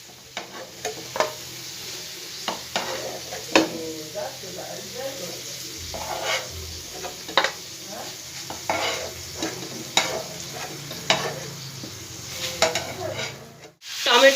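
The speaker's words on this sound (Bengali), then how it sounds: "এবার আমি এগুলোকে আস্তে আস্তে তুলে নিয়ে একইভাবে বাকিগুলো আমি ভেজে নেব।" Chicken pieces frying in hot oil for chicken changezi, a constant soft sizzle broken by repeated clinks and scrapes of a utensil turning and lifting the pieces.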